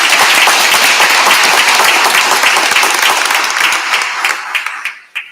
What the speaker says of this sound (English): a round of applause to everybody that was recognized today